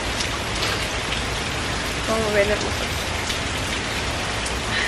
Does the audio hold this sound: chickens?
no